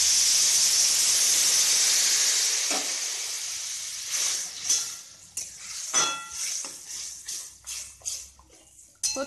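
Water poured into a cooking pot of Gobindobhog rice in a kitchen, a loud sizzling hiss that fades, then clinks and scrapes of stirring against the pot.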